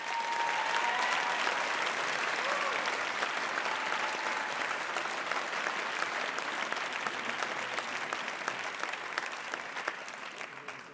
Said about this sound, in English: Please give these two a round of applause.